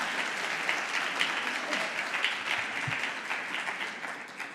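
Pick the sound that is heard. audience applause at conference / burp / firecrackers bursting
audience applause at conference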